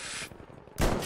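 A single loud gunshot in Battlefield V on the Aerodrome Breakthrough map cracks out with a sharp close blast, then the tail of game ambience rings on alone with no talking.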